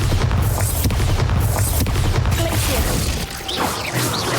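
Bombarda blasting spell explosions in Hogwarts Legacy, a dense run of loud, booming crashes and impacts close up, with brief voices among them.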